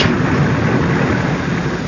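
Rain and thunder effect in a radio drama: a steady, dense roar of heavy rain with a low thunder rumble underneath, loud and continuous with no voices.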